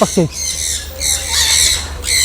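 A flock of birds squawks overhead at an outdoor aquarium site, with loud, shrill calls in repeated bursts and faint voices underneath.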